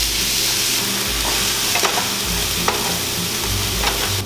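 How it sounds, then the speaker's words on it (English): Onions and garlic fry in olive oil in a pan, giving a loud, constant close-up sizzle with occasional faint stirring clicks. "lightly frying the garlic. Add the onions, as well as a little bit of salt."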